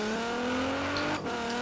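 A car engine in the Forza Horizon 4 racing game holds a rising whine with steady harmonics, then briefly cuts out and resumes, with a tire squeal, loud and close, with no talk.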